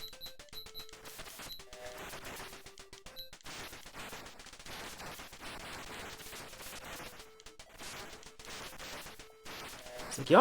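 Rapid shooting effects from the Capcom arcade shooter Vulgus, a steady run of bursts and blips layered with electronic tones and game music, fairly loud throughout and without talk.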